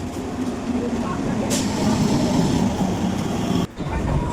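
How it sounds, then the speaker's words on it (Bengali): A train pulls into a station, a steady, loud rumble of rail and engine noise filling the scene with a brief sharp hiss and a short dropout near the end. "ট্রেন ঢুকছে, এবার আমরা ট্রেনে উঠবো।"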